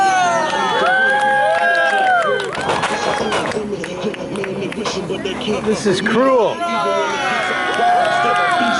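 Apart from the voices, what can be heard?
wrestling crowd cheering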